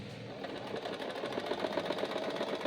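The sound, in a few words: sewing machine stitching fabric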